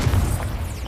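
A Confringo blasting spell detonates in Hogwarts Legacy on PS5, a single heavy boom with a rumbling low burst lasting under a second, no talk over it.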